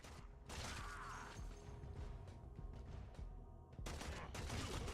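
Gunfire from a primary weapon at targets during a Warframe tutorial on PS4, dense bursts of shots running almost continuously with a brief lull near the middle, loud and close with no talk.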